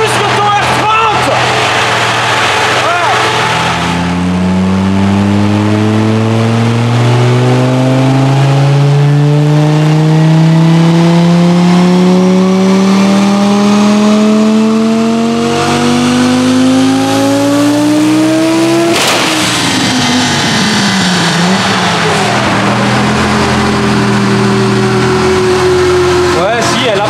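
An Audi on a dynamometer screams up through the revs in one long, loud pull, its pitch rising steadily until it slams into a harsh rev limiter near the top. It then drops back to a lower idle-like drone.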